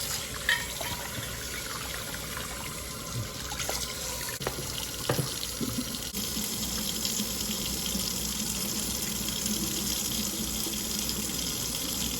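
Tap water runs steadily over a cast iron skillet in a home kitchen sink, with a few scrubbing knocks and clinks of the pan against the basin early on, the broad wash of flow continuing close and even.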